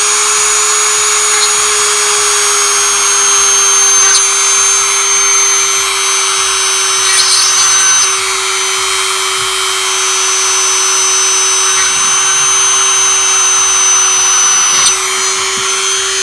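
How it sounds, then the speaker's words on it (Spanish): Small drill boring speaker holes in a plastic Game Gear case, a loud, steady high-pitched whine that runs unbroken, with slight changes in pitch as the bit bites. "tengo que abrir un poquito de unos cuantos agujeros, ¿vale?, para que el sonido salga"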